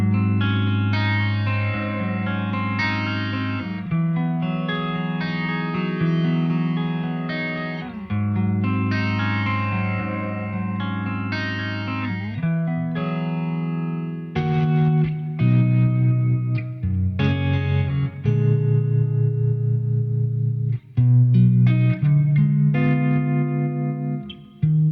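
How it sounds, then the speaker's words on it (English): Stereo flanger doubler effect from a UAFX pedal on a guitar, with sustained chords and picked notes swirling and shimmering under a sweeping, chorus-like modulation, loud and continuous with no voices. "And then we're on to the flanger doubler."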